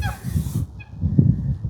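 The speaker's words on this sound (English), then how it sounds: "The geese don't like that I'm talking." Geese on a homestead pond honk in short, nasal calls, nearby and moderately loud, with a cluster of honks late in the clip over a faint background of water and outdoor noise.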